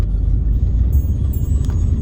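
A 17-year-old car produces a loud, continuous low engine rumble with a rattly, rickety edge, heard close up from inside, with faint light chiming high above it.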